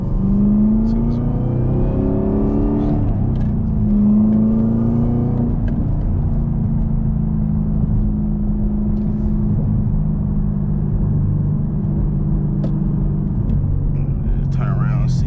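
A Chevrolet Camaro ZL1 with a manual gearbox pulls hard at sunset, its loud engine droning and rising through the gears up close from inside the cabin, with a steady rumble throughout.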